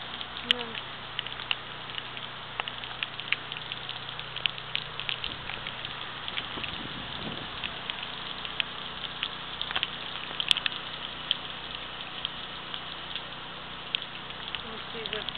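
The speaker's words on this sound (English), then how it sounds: "Wind's starting to pick up a little." Rain patters steadily and wind rushes during Hurricane Irene in Williamsburg, Virginia, a constant dense hiss with scattered drips and occasional gusts, with a voice talking briefly.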